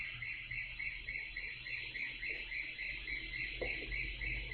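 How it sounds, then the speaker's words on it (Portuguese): An electronic siren or car alarm sounds outdoors as a steady, evenly pulsing high tone, moderately distant, over a low traffic rumble. "Não sei se é a polícia ou se é a ambulância."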